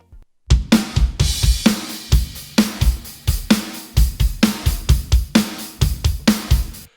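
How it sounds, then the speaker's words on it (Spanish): Drum kit reinforced with layered tone and pink noise samples, punchy kicks and snare hits in a steady groove, close and loud with bright crashing noise bursts on the backbeats. "Y con los apoyos la batería suena así"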